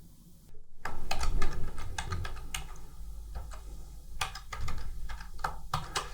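A password is typed on a phone keypad while installing a soft phone app on Android. Close, crisp taps come in an irregular run over a low background hum.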